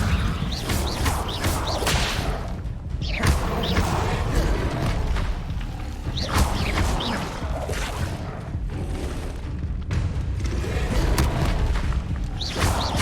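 Incendio fire spells are cast in Hogwarts Legacy amid a dense, loud barrage of whooshes, cracks and bursts that runs without pause, with combat effects layered throughout.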